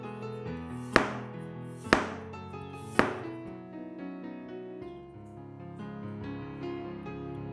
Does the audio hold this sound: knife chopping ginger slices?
yes